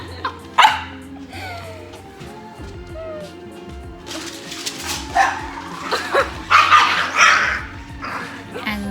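A Shiba dog at a dog cafe gives a few barks and whimpering yips amid indoor cafe bustle, with people talking nearby.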